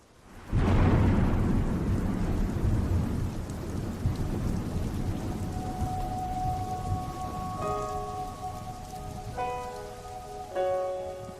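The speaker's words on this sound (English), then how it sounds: "and it's still raining" Heavy rain pours on a building site in mid-December as a deep thunder rumble rolls in and slowly fades, with the downpour continuing steadily; faint tonal music notes enter toward the end.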